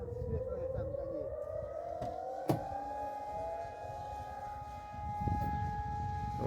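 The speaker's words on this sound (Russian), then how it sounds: "Вот сирена орет." A civil defense siren wails across Arkhipo-Osipovka at about 11 in the morning under a dark storm cloud. Its long tone rises slowly and holds at a distance while people talk nearby.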